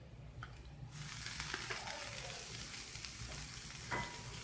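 Onions and ginger garlic paste fry in a pan for Kashmiri mutton rogan josh, a steady close sizzle with a louder burst of crackle as the paste goes in, then brief stirring scrapes, with no voices.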